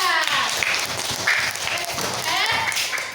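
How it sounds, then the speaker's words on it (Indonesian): Students in a classroom clap for a classmate during a lesson, a brief patter of hands mixed with overlapping voices. "Tepuk tangan buat Mbak Nadia."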